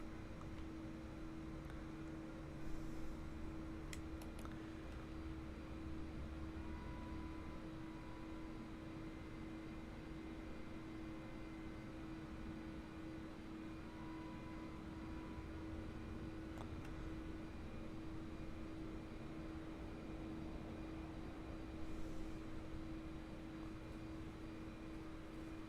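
A steady, faint jet-engine hum and broad rushing drone from an airliner taxiing toward the runway in Microsoft Flight Simulator 2024, continuous and even with a constant tonal whine and no talking.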